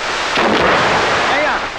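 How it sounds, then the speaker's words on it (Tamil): A loud booming blast that rumbles and echoes for over a second, like a firecracker going off nearby. "இப்ப வெடி வெடிச்சதே அந்த சத்தம் கேட்கலையான்னு கேட்டேன்."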